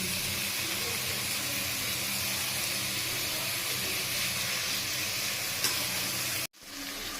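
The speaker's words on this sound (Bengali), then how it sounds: "নিয়ে ওই তেলেতেই পেঁয়াজ দিয়ে দিচ্ছি।" Onions sizzling in hot mustard oil in a kadai, left over from frying beetroot koftas, a steady dense hiss throughout that cuts off abruptly near the end.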